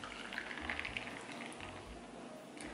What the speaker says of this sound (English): I'm gonna take the coffee and I'm gonna pour it in here